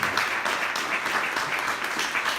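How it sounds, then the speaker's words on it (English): An audience at a veterans honoring show claps for a man who helps out, a brief, steady burst of applause filling the room at a moderate level. "a big, big applause for this gentleman who goes out there every day and helps out"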